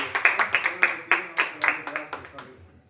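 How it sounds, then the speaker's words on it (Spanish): A Sunday church congregation claps for the Lord in a close, uneven burst of individual hand claps, loud at first and tapering off within about three seconds. "Denle un aplauso fuerte al Señor"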